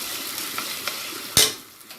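Meat and rice frying in a pan, a steady soft sizzle with a few light stirring scrapes and one sharper clack from a utensil near the end.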